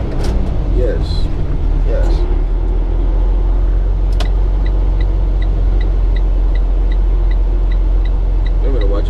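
Truck engine pulling steadily in fourth gear after a downshift, a continuous loud low rumble with faint higher whines above it, and people talking over it throughout.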